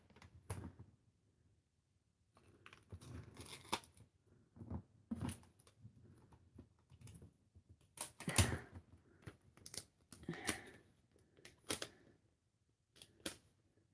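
Tape being pulled, torn and pressed onto the spine of a handmade journal, heard as close, quiet, irregular crackles, rips and taps scattered between soft handling noises, with no talk.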